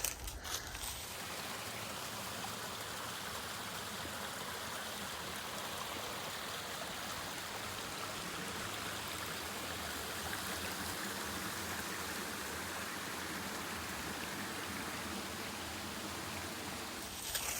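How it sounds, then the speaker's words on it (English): A stream of water rushes steadily through a canyon, a continuous broadband wash with no pauses, moderately quiet and even throughout, no voices. "there's a good amount of water that flows through here"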